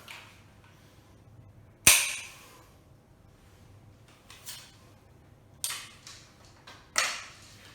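Rifle cartridges snapping from a loader into a rifle magazine: a few sharp, close metallic clicks spaced out over several seconds, the first loudest, with faint rustling between them and no talk.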